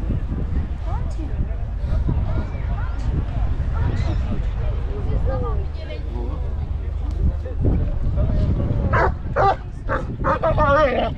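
A dog at a Turkish bazaar during a festival in Antalya gives short yips and whimpering barks close by, mixed with a busy crowd and people talking.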